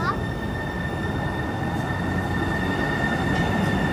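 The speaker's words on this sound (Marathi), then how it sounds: "या ट्रेन मधून आलो आपण." A metro train near Bellevue rumbles steadily past with a continuous low roar and thin, high wheel squeal tones, loud and close throughout.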